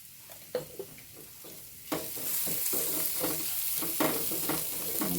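Chicken filling stirred in a hot pan with chillies and salt, a steady sizzle under repeated scraping and clacking of a spoon, growing louder and busier after the first two seconds.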